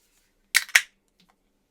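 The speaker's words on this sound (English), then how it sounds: "Now, let's crack it open and see what we get." A can of Lone Oak Brewing South Shore Sour, a 5% beer, cracks open with two quick, sharp bursts of pull-tab snap and hiss, close and loud, followed by near silence.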